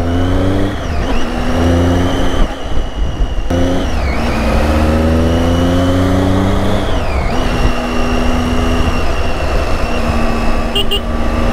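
A Tiger motorcycle engine, being prepped for a highway ride, rumbles loudly and close in the lanes of a market, its revs climbing and dropping several times across a continuous, throaty drone.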